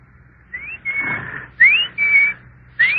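A person whistles an imitation of a cuckoo clock bird, giving a few clear, close notes in short repeated phrases of rising and level pitches with brief pauses between them.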